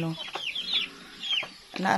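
Farm-raised chickens, including a mother hen, cluck and chirp close by in short bursts, with a bit of background noise.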